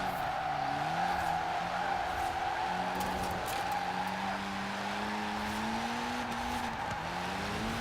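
Abarth car drifting in Forza Horizon 4, with a steady high tire squeal layered over a droning engine whose pitch rises and falls through the slide, continuous and close for the whole stretch.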